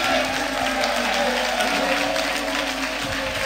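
An audience in a French-speaking church service applauds, with continuous dense clapping and a crowd murmur running steadily through the clip.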